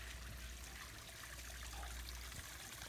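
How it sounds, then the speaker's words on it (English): Water trickles steadily into a garden pond beside a new deck, a quiet, even wash of splashing with no voices. "No fish in the pond yet, but I love the sound of the water."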